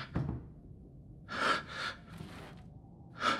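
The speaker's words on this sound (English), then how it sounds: "stop breathing like this" Ethan, the player character in the horror game Resident Evil Village, breathes heavily: a short gasp, then several loud, ragged exhalations in separate bursts, close and alone with no talk.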